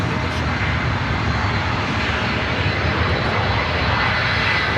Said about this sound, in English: Our next arrival at Delta Airlines Flight 501 coming in from Atlanta, Georgia, 757-300.